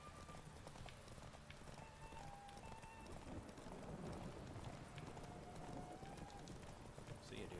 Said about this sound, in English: Get a quick canter, get a full bar of stamina,